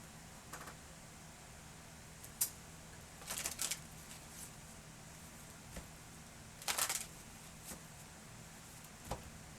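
A deck of cards is shuffled quietly in several short riffling bursts with pauses between them, faint and close in a quiet room.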